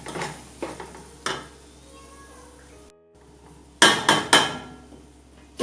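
Fried rice with tomatoes stirred in a pan, giving a few sharp scraping and clanking strokes of a utensil against the pan over a faint sizzle, with a brief pause and then a quick cluster of louder knocks.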